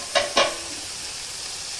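Vegetables sizzling in a kadai for a mixed veg dal, with two quick scraping stirs near the start followed by a soft, steady frying hiss.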